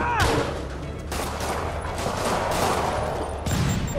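Rockets launched in a Spider-Man video game burst out in a dense, continuous barrage of explosive blasts for several seconds, loud and close, with a fresh impact near the end and no talk.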